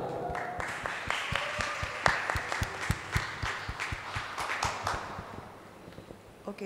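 A church feast audience at St. Gonsalo Garcia Church in Barampur claps in a brief round of applause, crisp individual claps that start strong and thin out to a scattered few as it fades.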